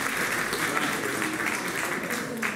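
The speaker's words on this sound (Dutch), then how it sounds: "Krijg een applausje." A crowd claps steadily for a couple of seconds, a dense patter of applause with a few voices mixed in.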